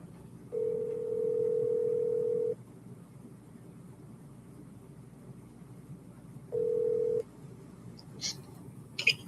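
Telephone call being placed: a steady dial tone sounds twice with a quiet gap between, followed by a few brief faint clicks near the end.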